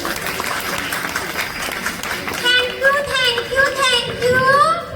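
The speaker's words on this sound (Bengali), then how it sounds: "এবং এই তিনজনের জন্য আরেকবার একটু জোরে হাততালি হয়ে যায়।" An audience claps in a hall at a lecture event, a sustained round of applause that gives way to children's voices and loud chatter.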